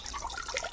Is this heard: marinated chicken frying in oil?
no